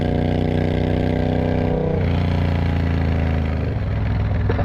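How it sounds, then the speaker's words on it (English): Triumph Bobber motorcycle with an aftermarket exhaust, a loud steady engine drone heard from the rider's position, with a gear change partway through, then continued running at a slightly different pitch. "Oh, I love my exhaust. Sounds so good."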